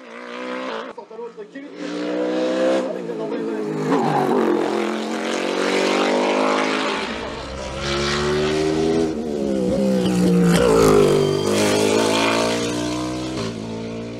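A Norma M20 FC CN+ prototype race car engine howls up through the gears on a hill climb course at La Pommeraye, loud and close, its pitch rising and falling repeatedly as it accelerates.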